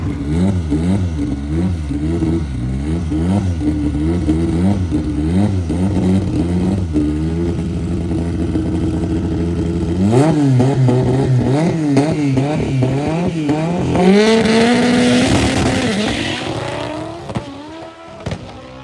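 A K24-powered AWD EG Honda Civic makes a drag racing pass, loud and close, its engine climbing through repeated rev sweeps with gear changes, then screaming higher before cutting off near the end.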